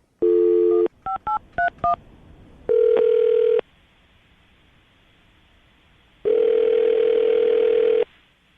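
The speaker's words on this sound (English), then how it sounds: "I'm going to dial the phone number" A run of touch-tone beeps as a number is dialed, bracketed by a steady dial tone before and a long ringback tone after, loud and close.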